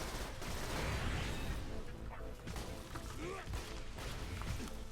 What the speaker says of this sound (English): Nice blood explosion.